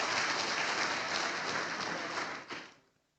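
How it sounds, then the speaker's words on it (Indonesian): Sustained crowd applause at a Golkar party regional board inauguration ceremony in West Papua, dense and steady clapping for about two and a half seconds before fading out quickly. "Tepuk tangan untuk kita semua."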